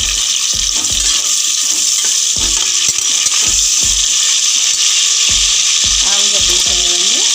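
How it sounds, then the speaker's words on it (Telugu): Potato pieces and green chillies sizzle loudly in hot oil with cumin seeds for a mixed vegetable moong dal khichdi, a steady close hiss broken by repeated clinks and scrapes of stirring. "ఇప్పుడు మనం ఆలుగడ్డ ముక్కలు వేసుకుందాం"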